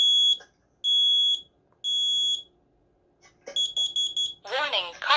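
A smoke and carbon monoxide combination alarm made in 2007 sounds its test, giving loud three-beep bursts of piercing tone separated by pauses, followed by a mechanical voice announcement from the unit.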